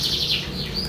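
A canary, an isian-class bird in an Indonesian bird-club setting, sings a short, bright, continuous trilling phrase, loud and close, with no talk over it.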